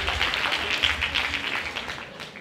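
Theatre audience applauding the stage crew during a live Christmas evening of music, dance and theatre, a fairly soft, steady wash of clapping heard at some distance.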